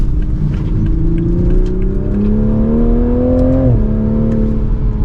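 A 2024 Toyota Supra 3.0 engine pulls hard up a steep hill, a loud, steady drone whose pitch climbs smoothly under acceleration, then dips briefly at a shift before settling again.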